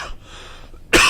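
A single short, sharp cough from a lung transplant recipient, close and loud, bursting out after a moment of near silence.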